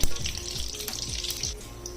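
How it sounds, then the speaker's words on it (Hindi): Small pakoras dropped one by one into melted desi ghee, giving a soft, steady frying sizzle with a few faint thuds of batter landing, close and moderately quiet with no voices. "अब इसके अंदर मैं छोटे छोटे पकौड़े डालती जाऊंगी"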